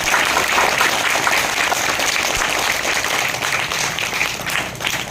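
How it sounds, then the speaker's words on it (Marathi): A school audience at a birthday celebration gives sustained applause, dense and loud from many hands at once, holding steady before easing slightly at the end, with no speech over it. "त्याबद्दल सर्वांनी त्यांचं मोठ्याने टाळ्या वाजवून अभिनंदन करायचं आहे।"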